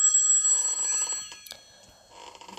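In a horror video game, a telephone rings with a thin electronic trill at moderate volume. The ringing fades near the middle, leaving faint game ambience, and then picks up again.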